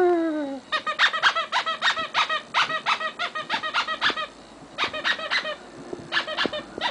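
Rapid duck calls in bursts, repeated squawking notes with short pauses, close and fairly loud, no talking.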